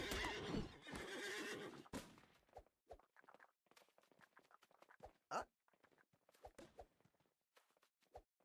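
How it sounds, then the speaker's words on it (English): A horse in the Disney Infinity 3.0 video game gives a loud whinny at the start. Scattered hoof clip-clops and short game clicks follow, and no one speaks. "here's the final horse. We'll bring it to the stable."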